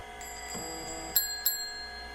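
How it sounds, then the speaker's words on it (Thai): A shop counter bell rung twice in quick succession at a video rental store in the horror game The VHS Paradise; both dings are bright and close, over a steady low game hum. "ติ้งกดกระดิ่งได้นะ"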